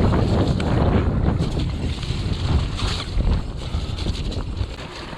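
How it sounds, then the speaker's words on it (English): Strong wind roars and buffets the microphone continuously on a steep mountain bike trail, a loud broadband rush with gusts rising and easing throughout. "very windy out here."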